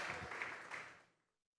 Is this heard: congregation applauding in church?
yes